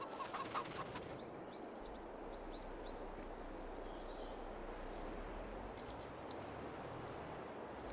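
Chickens in a large coop in Farming Simulator 22 give a few soft clucks and chirps at the start, then fade into a steady, quiet ambient hum of the farm.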